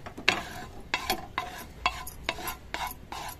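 Whole spices are stirred and fried in oil in a pan for a mutton curry, giving close, sharp scraping strokes about once or twice a second over a faint sizzle.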